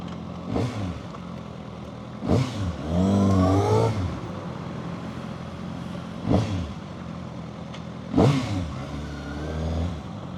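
A 2025 Kawasaki ZX6R sportbike engine on a test ride in Malaysia drones steadily, with several sharp throttle blips and one sustained rising rev, close and loud over wind noise.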